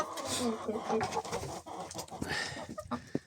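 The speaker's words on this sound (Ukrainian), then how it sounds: "Старі курочки є і нові курочки." Chickens, old and new hens including a large red Marans rooster, cluck and murmur in a winter coop, with busy close-up calls rising and falling throughout.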